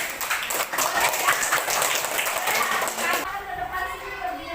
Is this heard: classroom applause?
yes